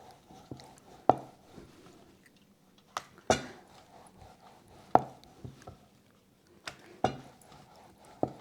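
Knife cutting rolled dough into diamond shapes on a board, a series of sharp, separate chops spaced every second or two, close and fairly quiet, with no talking.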